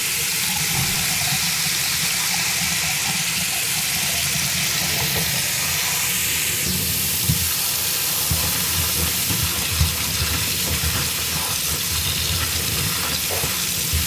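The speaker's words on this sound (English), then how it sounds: "Wash chilies thoroughly in cold running water." Chili peppers being washed under cold running water, a steady broadband rush of flowing water with occasional splashes and clunks of the peppers being handled, close and continuous.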